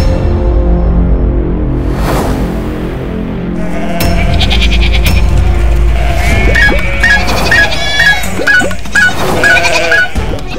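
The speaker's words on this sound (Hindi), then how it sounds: "क्या ये बकरी क्यों अंदर आ गई?" A goat bleats several times indoors over a busy backdrop of crashing and clattering, with a dramatic music bed running throughout and short repeated cries rising above the mix.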